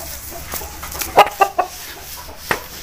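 An Aseel rooster clucks close by in a few short, sharp bursts clustered together, followed by a single later cluck over quiet farmyard background.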